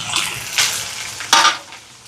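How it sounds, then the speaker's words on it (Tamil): Onions, green chillies, dried chillies, curry leaves, cumin and mustard seeds sizzle in hot oil in a Sri Lankan kitchen while being stirred, giving a steady close frying hiss with scraping stirs and a sharp utensil clink. "இப்போ பாருங்க வெங்காயம் எல்லாம் நல்லா வதங்கிட்டு"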